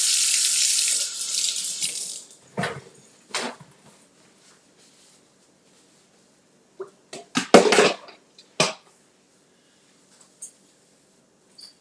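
Tap water runs into a kitchen sink with a steady splashing rush for about two seconds as hands are washed. Then come scattered drips, brief splashes and a few handling knocks. No one speaks.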